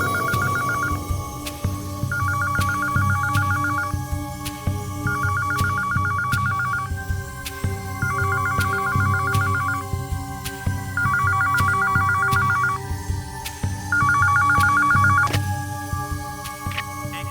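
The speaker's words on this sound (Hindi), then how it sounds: "आधी रात के बाद एक फोन आया था" A telephone rings over and over, each electronic trilling burst lasting about a second, separated by short pauses, with a low throbbing hum underneath.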